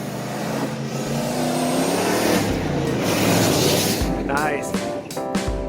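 Off-road vehicles with TTB suspension tear across a dirt road at speed, engines roaring loud and close with a steady broadband rush and pitch sweeps as they accelerate past, while people talk over the noise.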